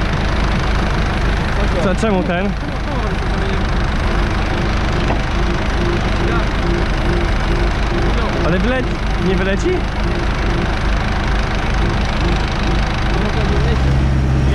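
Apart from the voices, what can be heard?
tractor engine running during ploughing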